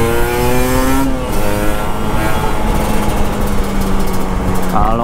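Motorcycle engine revving hard during a ride on a busy road in Medan, Indonesia: loud, continuous engine drone with rising and falling pitch, close to the rider, under wind and traffic noise.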